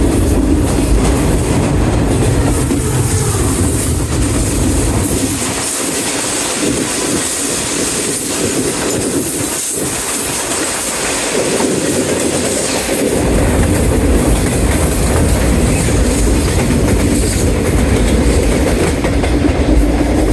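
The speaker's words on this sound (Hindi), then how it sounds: "आपके सामने अभी कैसे हाई स्पीड ट्रेन गुजरी है" A high-speed cargo train runs past on a railway track near iron sleepers, a loud, continuous rumble of wagons and rhythmic wheel clatter lasting the whole stretch, with no voices.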